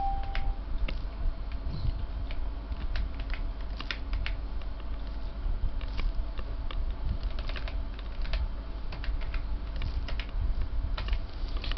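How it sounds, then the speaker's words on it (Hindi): Rapid, steady typing on a computer keyboard while entering a command into a software command prompt, with dense keystroke clicks running continuously and close, no voices. "ये आपने कमांड प्रॉम्प्ट पे लाइन का वर्ड टाइप किया।"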